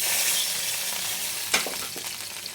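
A small glass of milk poured into hot ghee in a pan, with an ongoing hiss of frying and a sudden brief burst of sizzle as the liquid hits, settling back to a softer bubbling.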